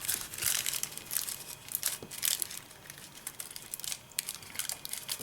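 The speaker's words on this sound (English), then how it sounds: "I'm going to just kind of fold it and pinch it till I get a point" Paper crinkling and crumpling close up in short, irregular bursts as it is folded and pinched into a point, with no talking.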